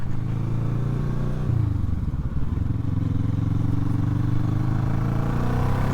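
A 2007 Kawasaki ER6N parallel-twin motorcycle revs up under acceleration on the road, a strong close engine note that dips and climbs again and holds steady, with no talk.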